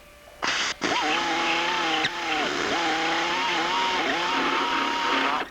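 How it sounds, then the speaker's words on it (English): A power cutter counterbores through laminate down to the aluminum beneath, about an eighth of an inch deep, a loud steady motor whine with a brief catch early on and slight pitch dips as it loads and eases. "What you're doing is you're just counterboring the laminate until you get to the aluminum."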